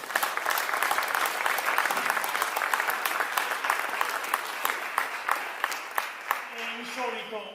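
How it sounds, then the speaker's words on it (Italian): A dense, sustained audience ovation for Milena Dotti at an evening of Logudorese Sardinian guitar song in Ozieri fills the room for about seven seconds. It thins at the end as a voice begins to speak. "vi chiedo un forte e sincero applauso per Milena Dotti"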